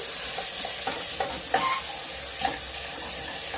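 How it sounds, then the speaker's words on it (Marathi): Whole-spice masala with onion and tomato sizzles in a pan while being stirred, giving a steady close frying hiss broken by scraping strokes and small pops. "यामध्ये मी आता फक्त याला मसाल्याला चांगलं भाजणार आहे"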